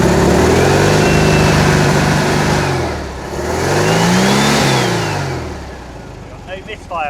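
Air-cooled engine of a 60-year-old VW Bus running smoothly after ignition timing, a steady loud rumble that swells with revs, dips around the middle, then rises again before easing off near the end.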